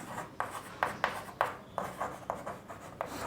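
A teacher writes on a board during a physics lesson, chalk or marker strokes in a steady rhythm of about eight distinct scratchy swipes, close and fairly loud with no talk over them.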